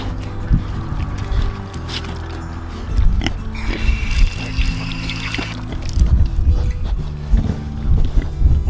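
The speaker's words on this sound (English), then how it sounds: "And of course they are escaping because that is what pigs like to do." Pigs grunt and snuffle close by amid splashing water and shifting background noise, the grunting growing louder toward the end.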